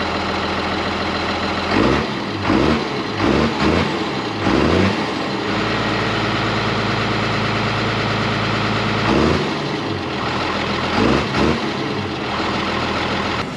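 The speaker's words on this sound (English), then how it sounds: "Now she's started up, you can hear that 6-cylinder engine singing." A large six-cylinder turbo diesel tractor engine rumbles steadily nearby, with periodic heavier chugging surges over a constant low drone.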